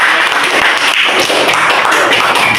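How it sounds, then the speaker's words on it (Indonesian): Schoolchildren in an elementary class applauding, a loud, dense, steady patter of many hands clapping close by for a few seconds. "beri dulu tepuk tangan untuk"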